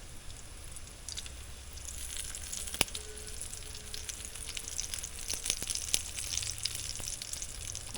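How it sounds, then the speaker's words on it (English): Fries frying in oil in a pan, a quiet steady sizzle with scattered crackles and pops, plus a couple of sharp clicks, no voices. "Our fries are doing just lovely. I'll add a little more oil into this"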